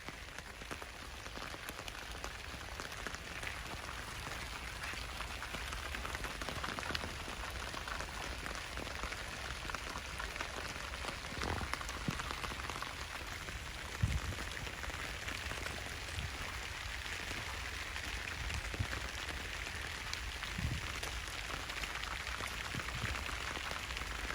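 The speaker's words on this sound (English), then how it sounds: "it is raining really hard out here" Heavy rain pouring down in a garden during a winter storm, a steady dense hiss of drops on surfaces with occasional louder splats, continuous and close with no talking.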